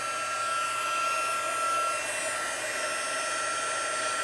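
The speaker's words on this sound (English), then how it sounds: "And then bring in the heat tool." Heat embossing tool blowing hot air, a close, loud, steady whooshing blast with a thin high whine, running continuously and alone.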